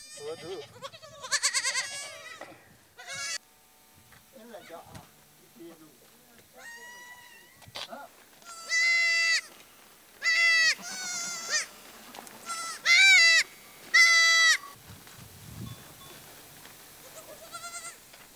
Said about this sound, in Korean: 올해 새로 식구가 된 새끼 염소가 10여 마리.